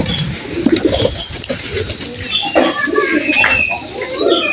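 Pigeons coo in soft, low, throaty murmurs amid steady background noise, the calls overlapping and close by, with occasional rustles and faint bird chatter mixed in.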